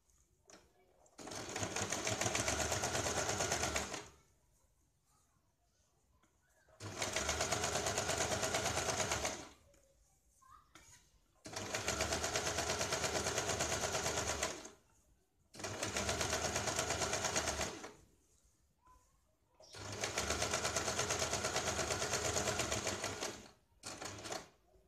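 An electric sewing machine stitches along the edge of a square neck blouse, running in five loud, steady bursts of several seconds each, separated by quiet pauses with faint handling of fabric.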